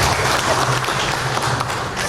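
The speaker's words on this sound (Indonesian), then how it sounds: "Terima kasih, tepuk tangan" At an installation ceremony for the PWRI Lampung boards, a brief burst of dense audience clapping fills the room, loud and even throughout.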